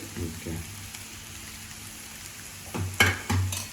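Spring onion frying in a pan for an egg dish, a soft steady sizzle under a low background hiss, with a few louder stirring clatters toward the end.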